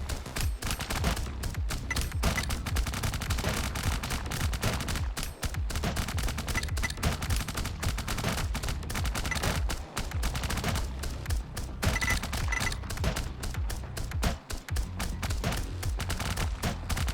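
Rapid, continuous automatic fire from a weapon in the game Kickback, loud, close and unbroken, with only brief dips between sustained bursts and no talking over it.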